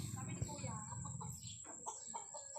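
A large chicken clucks and squawks nearby in short, choppy calls, under a faint steady high hum.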